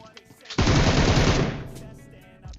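Shotgun gunfire in a shooter video game, fought inside an apartment building: one loud, close burst that hits at once and trails off over about a second, with no talk in the clip.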